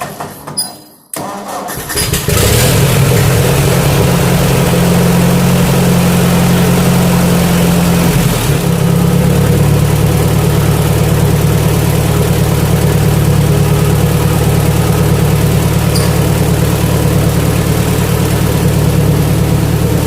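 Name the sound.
Ford 8N tractor engine starting and idling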